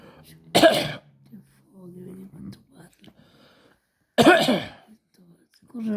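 Two sharp coughs a few seconds apart, close and loud, with quiet talk and vocal sounds between them.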